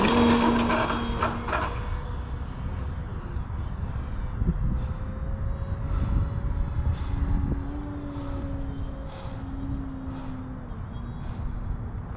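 Electric A.J Aircraft Slick 540 RC model airplane, 51-inch span with a Castle 60 speed control, droning steadily overhead as its motor pitch rises and falls with passes, fairly distant over outdoor wind noise.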